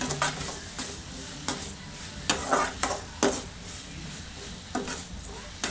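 Ridge gourd sautés in hot oil while a spoon or spatula stirs it in a metal pan, giving a soft sizzle under repeated sharp utensil scrapes and clinks spaced irregularly, close by and fairly quiet.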